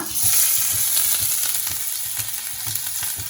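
Finely chopped ginger, garlic and green chilli sizzle in about three tablespoons of hot oil in a kadai: a loud, dense, continuous frying hiss heard close up, with faint stirring and no speech.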